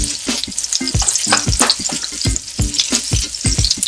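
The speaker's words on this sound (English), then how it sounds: "To that we're going to add a tablespoon of butter." A tablespoon of butter hits very hot grape seed oil in a pan, giving a loud, close, steady sizzle with rapid popping and spitting and no voices.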